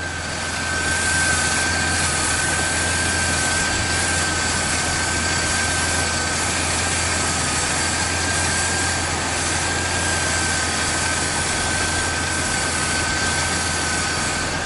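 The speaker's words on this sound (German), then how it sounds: "Wenn ihr jetzt eine Veränderung hört, vom Motorlauf her, dann zieht er da nämlich Nebenluft." A Buick's engine runs steadily while being checked for a vacuum leak, a continuous loud hum with a droning tone, unchanging throughout with no voices.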